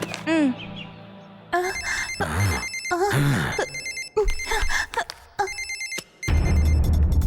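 A telephone rings in a Shiva action cartoon, its bright repeated ringing bursts mixed among music, sound effects and animated voices, loud and close throughout.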